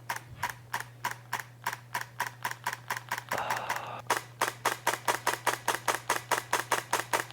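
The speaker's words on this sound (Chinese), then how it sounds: "而且它这个机械快门脆特别脆" A Nikon camera's mechanical shutter fires in rapid continuous bursts, dozens of crisp close clicks in a fast even rhythm, with a short break midway, over a faint steady hum.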